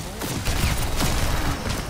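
Dense, continuous gunfire crackles in the Overwatch 2 video game, a busy volley of overlapping shots with faint game sounds mixed in.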